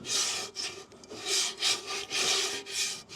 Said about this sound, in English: I'm going to take this little brush, kind of like a brush.